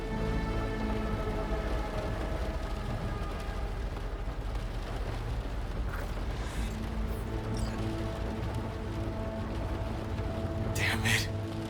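Steady rain pours continuously in Cyberpunk 2077, a dense hiss of falling drops with voices talking over it and a brief splash near the end.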